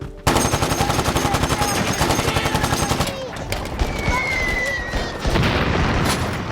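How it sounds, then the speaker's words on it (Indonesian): Rapid machine-gun fire and heavy booming blasts from a World War II battle scene with German forces attacking, loud and continuous, with a voice speaking in the middle of the barrage. "Suara bom dan tembakan terdengar di mana-mana."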